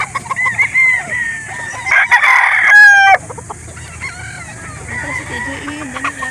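A rooster crows loudly and close at a gamefowl market, with other fowl clucking and murmuring voices around it.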